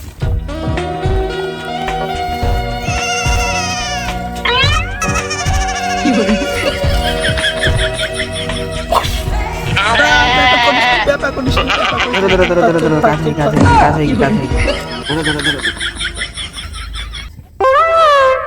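A goat bleats loudly and repeatedly in a comic village scene about a goat being cut and bandaged, its wavering cries close and prominent as people talk around it.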